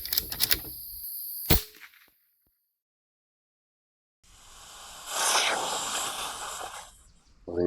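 A single sharp rifle shot cracks at an outdoor shooting range, preceded by a few smaller clicks and followed by silence, then a broad rushing noise later on.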